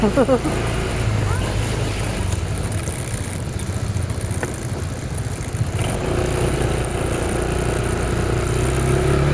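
A motorcycle engine runs close by, idling with a steady low rumble and a few small revs, while people talk over it.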